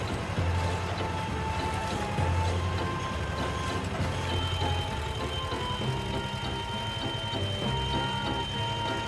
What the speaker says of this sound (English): That beeping sound you hear is from the measuring stick.